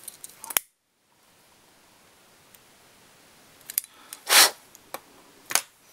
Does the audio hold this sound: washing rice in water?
no